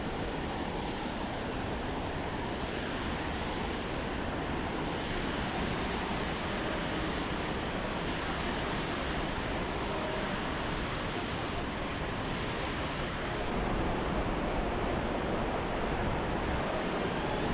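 Lower South Falls in Silver Falls State Park, Oregon, a waterfall crashing ahead on a forest trail, heard as a continuous broadband roar of falling water, steady and enveloping, swelling slightly louder near the end.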